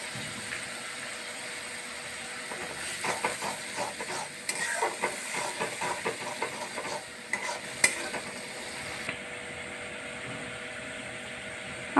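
Spices and tomato ketchup sizzle and hiss in hot oil for a Bengali country chicken curry, with a spoon scraping and stirring in bursts before the frying settles into a softer steady hiss.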